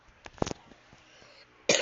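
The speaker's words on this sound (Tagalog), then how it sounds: "Ngayon, may sakit ka na kasi inubuhan kita." A single cough bursts out near the mic amid quiet room noise, followed by a shorter throaty cough, with a louder rough burst at the end.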